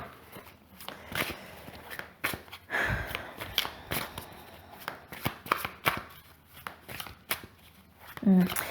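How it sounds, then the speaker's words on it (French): A deck of cards is shuffled by hand close up, giving quick crisp riffling bursts and sharp snaps in an irregular rhythm, with occasional soft handling sounds between them. "Alors si j'arrive à mélanger correctement le jeu."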